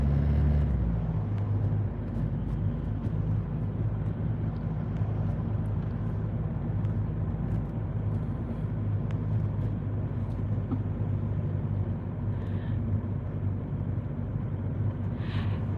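Steady road traffic rumble heard from inside a car driving at night in Gatlinburg, a continuous low engine and tyre drone with occasional faint passing vehicles.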